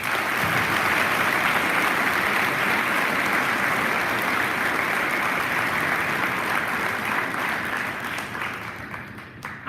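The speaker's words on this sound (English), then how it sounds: "Please give them a round of applause." An audience in a school gym or auditorium gives sustained, loud applause during a Veterans Day assembly, the clapping steady for most of its length before thinning out toward the end.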